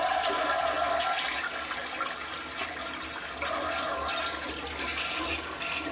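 A toilet flushing, a steady rushing gush of water that swells, dips briefly and surges again over several seconds, close and fairly loud with no talk.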